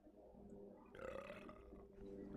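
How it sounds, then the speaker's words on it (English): A single drawn-out burp rumbles for about two seconds, faint overall and heard alone without talk. "All I heard was a burp."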